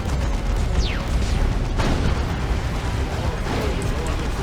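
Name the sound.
Executioner cannon destroying Predator tank in Dawn of War 2 video game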